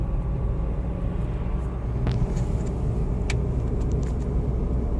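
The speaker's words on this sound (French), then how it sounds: "plus on accélère, plus les vitesses vont augmenter et se changer d'elles-mêmes" A car with an automatic gearbox accelerates, a steady low engine rumble holding throughout with faint brief clicks and whines above it, no talk.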